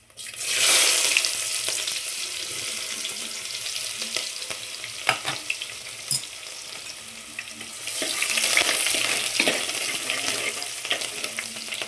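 Sliced onions frying in oil in a pan for mutton sambar, a steady close sizzle with scraping stirs over it, swelling louder at the start and again toward the end.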